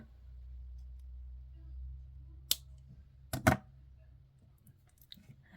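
Wire cutters snip jewelry wire while assembling a bead necklace, giving a couple of sharp close clicks over a low steady room hum.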